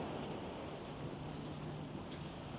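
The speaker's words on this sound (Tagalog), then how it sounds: "And eto na yung dagat." Ocean waves on a sandy beach at Maafushi Island in the Maldives, a steady broad wash of surf with wind noise on the microphone.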